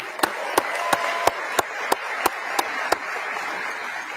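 Audience applause for student entrepreneurs at a Macon, Georgia State of the Community Address: a steady wash of crowd clapping with one close, sharp clapper beating an even rhythm of about nine claps, no talking.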